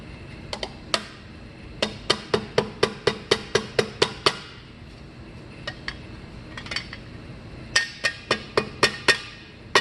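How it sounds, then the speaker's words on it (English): Sharp metallic hammer blows flattening a thin aluminum sheet, struck in quick irregular bursts with short pauses between groups. "I'm going to pop that right on the bad spot and hammer it right back flat"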